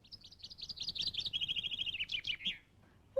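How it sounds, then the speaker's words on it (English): A chaffinch sings a fast, rattling run of chirps that tumbles downward and ends in a brisk flourish, clear and fairly close. "And there's a chaffinch."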